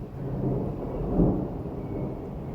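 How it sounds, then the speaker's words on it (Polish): Low, distant thunder from a passing storm rumbles steadily, with a slight swell in the middle and no other sounds. "Coraz, coraz cichsze te grzmoty."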